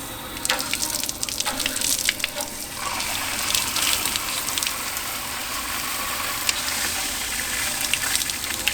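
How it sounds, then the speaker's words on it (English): Water runs steadily from the heated shower of a DIY teardrop camper, giving a continuous bright hiss with a few splashy bursts; no one speaks. "I've got water coming out, heater's on, control the water flow."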